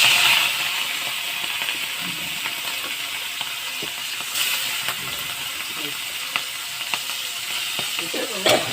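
Prawns rubbed with salt and turmeric fry in hot oil in a wok, giving a loud, steady sizzle throughout, broken by a few sharp clicks and scrapes of stirring.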